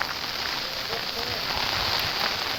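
Steady rain pours in hilly countryside, a dense, loud hiss of drops on surfaces with no pause, and a voice is faintly present beneath it.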